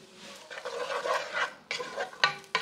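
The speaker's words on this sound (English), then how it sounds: "Onions trying to make a little bit of noise" Onions cooking in a pan for chili over basmati rice, with stirring and scraping in short bursts over a faint sizzle and a few sharp utensil clicks near the end.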